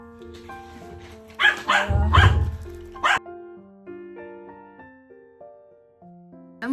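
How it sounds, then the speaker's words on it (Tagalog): A dog barks in a few sharp bursts near the start, then a high whining melodic tone continues alone afterward. "Ingay ng aso ko."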